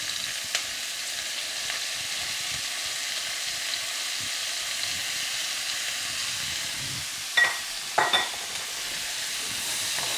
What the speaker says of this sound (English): I always keep bacon fat on the ready. I'll throw in like an extra tablespoon or so. Along with our 3 cups of chopped onions.